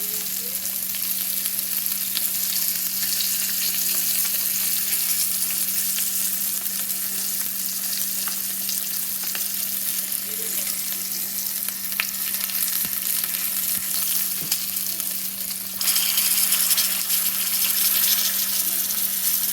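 Pork chops with garlic frying in a pan, a continuous close, loud sizzle with a steady hum beneath and occasional faint clicks and stirring, no voices.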